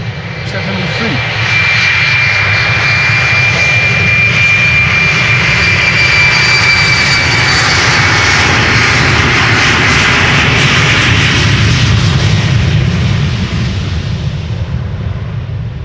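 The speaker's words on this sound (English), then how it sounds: "Embraer 190 KLM flight 1178, going to Stavanger" A KLM Embraer 190 jet takes off at Schiphol's Polderbaan runway, its engines roaring loud and close in a steady, sustained rumble with a thin whine on top, swelling and fading as it climbs away.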